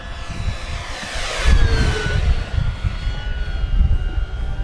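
An FMS Version 8 P-51 Mustang Red Tail RC model plane flies by in wind, its engine drone swelling loudly as it passes close and then easing into a steady hum.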